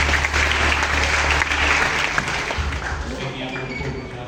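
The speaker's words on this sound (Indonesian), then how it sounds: "Boleh tepuk tangan buat Tuhan Yesus." A church congregation at an outdoor revival service claps together in a loud, sustained burst that gradually fades toward the end.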